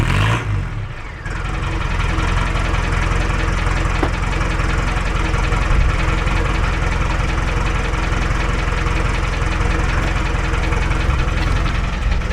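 A car engine running loud and steady after starting, with a deep, rough, tractor-like drone and slight knocking texture, close and continuous with no talk.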